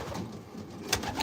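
A racing pigeon murmurs a brief, low coo inside a breeder loft, close by and muffled against a hissy, noisy room background.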